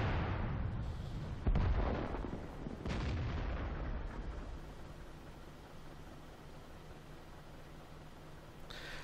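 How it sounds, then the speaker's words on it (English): A heavy tank gun shot booms in World of Tanks on the Siegfried Line map, a loud deep blast near the start with a second crack soon after, trailing into rumbling battlefield noise. "Now you saw that shot that went right over my shoulder"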